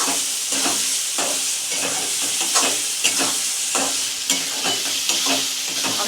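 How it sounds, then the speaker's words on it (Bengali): Spice masala for loitta fish being sautéed on a low flame, a steady soft sizzle with rhythmic spatula stirs scraping the pan at close range. "এটাকে মিনিট 3 মতো আমি লো ফ্লেমে কষাবো।"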